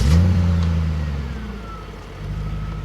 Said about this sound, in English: you hear that mechanical noise of the starter, the engine overturning